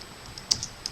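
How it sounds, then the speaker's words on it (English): A few brief, crisp computer keyboard keystrokes sound irregularly across a short quiet stretch, close and fairly faint, with no talking. "type your question here."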